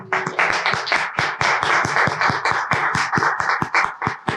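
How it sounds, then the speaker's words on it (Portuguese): An audience at an ADHONEP women's gathering claps for standing women, a loud, close burst of many hands clapping in a brisk, fairly even rhythm that runs steadily throughout. "Vamos dar uma salva de palmas para essas mulheres?"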